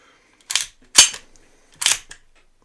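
A Swiss Arms 1911 Seventies stainless air pistol's locking mechanism gives three sharp metallic clicks, spaced about half a second to a second apart, close and fairly quiet in an otherwise silent room.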